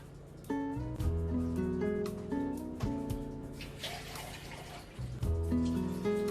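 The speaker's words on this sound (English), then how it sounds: "let's get some more water into my jug." Tap water runs into a jug in a home kitchen, a faint steady stream broken by short pauses and resumptions, with dripping tones rising as it fills.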